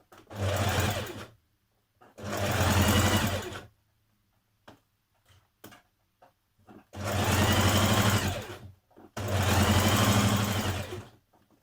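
A sewing machine runs a 1 cm seam down the front placket of a Simplicity 8384 dress in four steady whirring runs of about one to two seconds each, separated by quiet pauses with small clicks.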